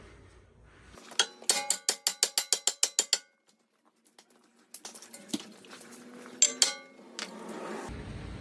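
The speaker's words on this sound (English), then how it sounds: "more than likely you're gonna have to use a hammer to break this free because that's seized on there" A 4-pound hammer strikes a seized brake bracket on a Lincoln MKC/MKZ in a quick run of about ten ringing blows, then a pause, followed by several more scattered, clanging hits up close.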